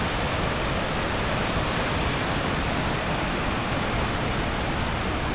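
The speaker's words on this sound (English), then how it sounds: "from the waterfall." A Norwegian waterfall roars as a loud, steady, unbroken rush of broadband water noise, close and constant with no other sounds.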